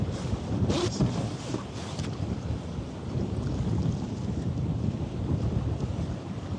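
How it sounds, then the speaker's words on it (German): Strong wind roars and buffets the microphone at a harbour, a continuous loud rumbling gust with no speech. "Boah, jetzt geht der Wind aber richtig hier."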